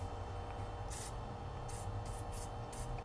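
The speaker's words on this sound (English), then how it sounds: "block one end with your finger and spray some carb clean through it" Carb cleaner is sprayed through a scooter carburetor emulsion tube with one end blocked by a finger, giving several short faint hissing bursts of aerosol against a low steady background hum.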